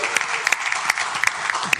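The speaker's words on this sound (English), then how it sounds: "let's give them another round of applause" Audience applause at a city council meeting: a steady wash of clapping from a roomful of people, with sharper individual claps standing out, moderately loud and continuous through the short stretch.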